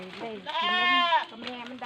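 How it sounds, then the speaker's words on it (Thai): Young goat kids bleat while suckling milk on a goat farm, a wavering, harmonic-rich cry rising in the middle and held for about a second, with quieter overlapping bleats and background noise around it. "เบิ้งกินนมครับผมแพะกินนม"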